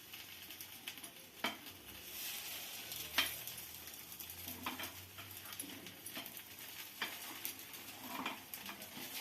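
Appe sizzling softly in an appe pan while being turned, with scattered sharp clicks and scrapes from flipping over a quiet, steady frying hiss.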